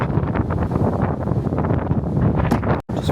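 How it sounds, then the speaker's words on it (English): Strong wind blasting against the microphone outdoors in a shop car park, a constant loud rumbling roar with a brief dropout near the end. "Oh my God, it's windy."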